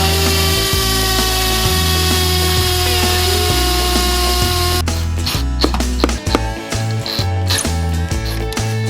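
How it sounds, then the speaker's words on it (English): A hammer drill whines steadily, then shifts into a rough, hammering bite with short bursts and pauses as it bores into brick. "we're drilling into our brick, so we need our hammer drill"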